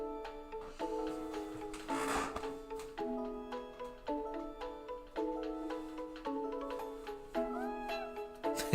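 A cat meows for attention close by, a few short cries rising over steady repeated melodic notes that run through the whole scene, with brief soft handling noises between them.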